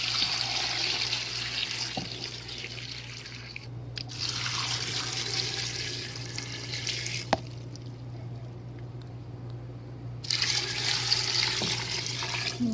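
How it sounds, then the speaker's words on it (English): Tap water runs into a pot of diced vegetables and onion for homemade broth, a steady close rushing stream in two long pours separated by a brief pause, with no talking. "now I'm going to fill this with water until it is just level with the vegetables."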